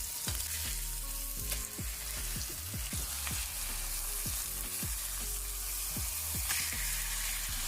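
Jerk salmon sizzles steadily in a hot pan while it is flipped, a dense continuous frying hiss with clicks and small pops throughout and no voices.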